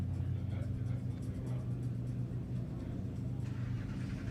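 Low steady engine rumble from a Noble M600 supercar at a live supercar meet, sounding fairly distant and constant against crowd noise and talking.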